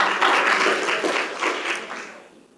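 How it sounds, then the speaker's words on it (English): Audience applause at a health equity panel session, a steady broadband clatter of many hands that gradually fades away over a few seconds. "A big round of applause for MSD"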